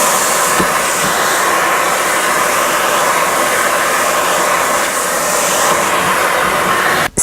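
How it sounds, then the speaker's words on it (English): A vacuum cleaner runs continuously while a drywall patch is sanded, a loud, steady whooshing roar held close throughout before cutting off abruptly at the end. "I'm holding the vacuum cleaner underneath it."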